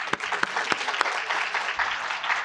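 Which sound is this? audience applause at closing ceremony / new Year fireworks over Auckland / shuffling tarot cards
audience applause at closing ceremony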